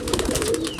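Pigeons kept for sale give a brief, close, soft throaty coo, alone without talking.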